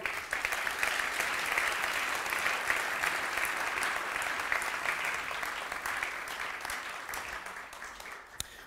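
At an architecture awards ceremony in a theatre, an audience applauds as a jury member is called onto the stage, a steady wash of many hands clapping at moderate level that thins slightly toward the end.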